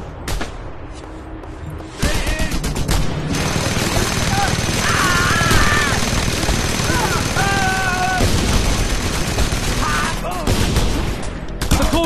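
Heavy mounted gun fire in the action game Just Cause 2 during a stronghold assault, a long continuous roar of rapid automatic shots with explosions and shouted voices over it.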